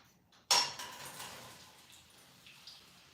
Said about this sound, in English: the pan should be kind of warm so you can hear it sizzling